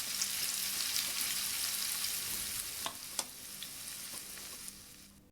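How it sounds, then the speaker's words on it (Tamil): Potato pakoda pieces fry in hot oil in a pan, giving a steady close hiss of sizzling with a few sharp pops and crackles, no voices, before the sound cuts off at the end. "இப்போ இதில் நம்ம மிக்ஸ் பண்ணி வச்சுருக்க அந்த பொட்டேட்டோவை போடலாம்."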